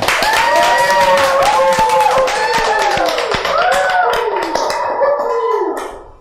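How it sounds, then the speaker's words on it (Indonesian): On an Indonesian chat show, a quick run of crisp hand claps sounds close and loud, mixed with sliding tonal sounds, before fading into quiet. "Tepuk tangan."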